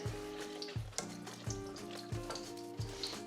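Pieces of chicken for a chili con pollo stew tipped into a hot pot with oil, giving a close, steady sizzle with repeated stirring knocks and scrapes at regular intervals, no talk.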